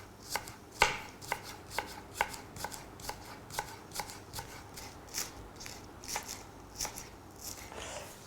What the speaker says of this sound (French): Je les coupe en fines lamelles.